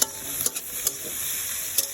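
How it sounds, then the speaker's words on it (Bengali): Bitter gourd and shrimp fry in a pan, a steady close sizzle broken by several scraping strokes of a spoon being stirred through, with no talking. "একটু লাড়া দিয়ে দিচ্ছি"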